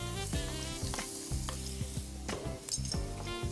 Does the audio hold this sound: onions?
yes